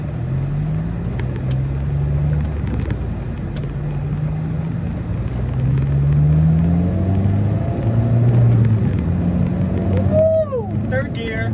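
An 8th generation Honda Civic accelerating in third gear on the road, its engine note rising steadily and loud under cabin noise, while a person talks over it and cheers near the end.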